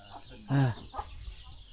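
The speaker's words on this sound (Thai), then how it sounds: "ไก่กา เต็ม ไก่หาอยู่หากินแบบธรรมชาติ" A free-range village chicken in a mountain riverside village gives a single loud cluck, followed by a softer second call, against a quiet outdoor background.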